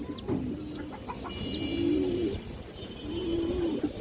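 Pigeons coo in a low, repeated, rolling murmur, several birds calling in overlapping phrases at close range, with faint higher chirps and a steady background hum.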